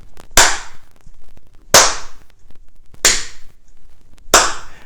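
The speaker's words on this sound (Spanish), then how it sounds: "con el centro de la palma de las manos se va a golpear aquí" An open palm slaps sharply against the body during a qigong self-massage exercise, four dry, crisp smacks spaced about a second and a half apart, close and loud with quiet gaps between.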